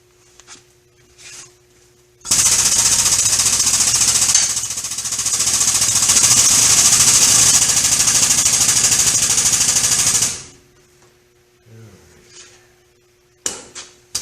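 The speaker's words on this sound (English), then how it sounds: "we've got our air hoist hooked up, ready to go, strapped our chain across onto the mower, a nice secure spot. Now we're going to lift the mower" An air hoist with a chain strapped across a lawn mower lifts the mower, a loud, continuous pneumatic roar and rattle lasting about eight seconds, then cutting off to quieter background with a few clunks.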